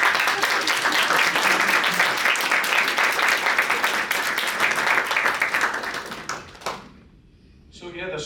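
An audience applauds at a charity's annual general meeting: dense, steady clapping fills most of the stretch, fairly close, then fades out near the end as a voice resumes.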